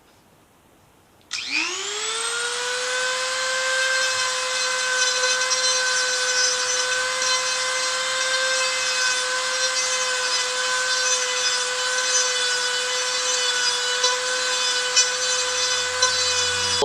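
A high-pitched Dremel rotary tool whines steadily, spinning up at the start and holding a constant loud tone as it cuts button holes in a fightstick case, with no voices.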